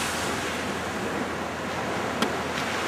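Ocean surf rolls onto Jamaica Beach at daybreak under a light north wind, a steady loud wash of breaking waves with brief gusty bumps, no voices.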